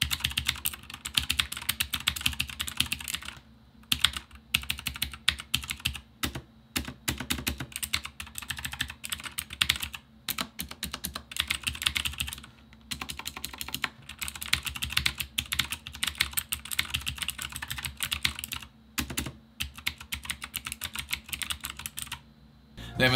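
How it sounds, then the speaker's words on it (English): Continuous fast typing on a TeckNet budget mechanical keyboard with clone blue switches, a dense run of sharp clicky keystrokes with a few short pauses. "So this keyboard features the blue mechanical switches."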